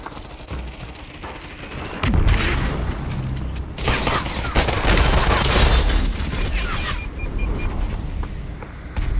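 Frag grenade explosion in the VR shooter Population: One, with a loud boom around the two-second mark among sustained bursts of gunfire and game noise, continuing dense and busy to the end.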